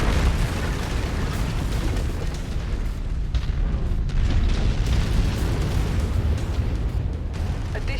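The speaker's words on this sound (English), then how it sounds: "Emergency generator has been destroyed." An emergency generator blowing up in MechWarrior 5: Mercenaries, a loud, sustained booming explosion with heavy low rumble and crackling debris that holds for several seconds.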